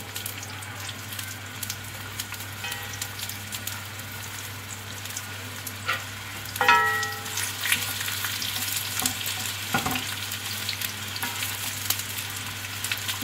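Onions sizzle in about one and a half cups of hot oil in a kadai, with a steady frying hiss, a louder burst midway and occasional stirring clinks.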